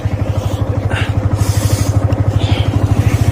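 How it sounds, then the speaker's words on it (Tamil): A vehicle engine, likely a motorcycle, runs loud and close with a rapid, even chugging pulse that holds steady throughout. "வண்டி ஸ்டார்ட்"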